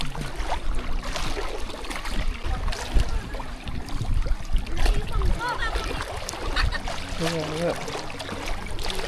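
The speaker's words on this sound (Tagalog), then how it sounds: "Asakay kami ng bangka." Water sloshing and splashing around a small boat at sea off Catanauan, Quezon, Philippines, with people talking and calling out over it throughout.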